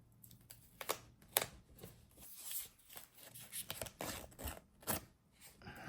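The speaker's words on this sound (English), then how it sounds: "let's take off this little wrapper sticker that we've got on here" A wrapper sticker being peeled off a matte black 2024 Beats Pill speaker, heard as close, quiet crinkly scraping and plastic rustles in short irregular bursts, with no talking.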